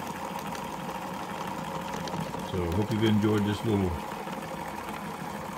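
A small 3D printed model outboard motor with printed gears runs smoothly in a steady mid-pitched hum for about a second and a half, loud and close, with someone talking before and over it.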